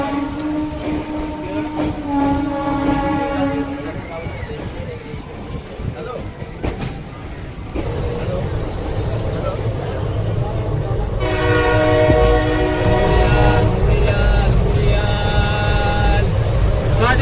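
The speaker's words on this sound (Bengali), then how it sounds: "ঠিক 10:40 ট্রেন হাওড়া স্টেশন ছেড়ে এগিয়ে চলল রামপুরহাট স্টেশনের উদ্দেশ্যে" A passenger train pulls out of Howrah station bound for Rampurhat, giving a steady rolling rumble with tonal horn-like sounds rising over it through the second half.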